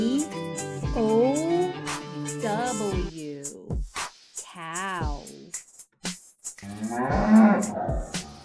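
Several drawn-out cow moos sound close and loud, one after another, separated by short pauses.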